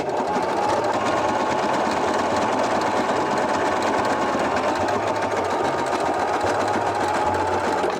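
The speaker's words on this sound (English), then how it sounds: "Now we can go around and sew the lining to the top." A sewing machine runs continuously and loudly as it stitches a hat lining to the top, a steady close-up mechanical whir without pause.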